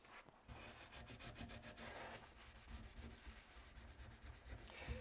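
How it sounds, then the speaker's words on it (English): A non-scratch Scotch-Brite pad scrubs burnt-on grease from a stainless steel cooktop in quick, rhythmic back-and-forth strokes, a steady close rasping that sounds vigorous, with no voices. "It sounds like I'm scrubbing really hard, but I'm not."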